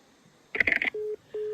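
Over a phone line, a ring goes unanswered: a brief burst of clattering noise, then two steady electronic ringback tones with a short gap between them, quiet and alone.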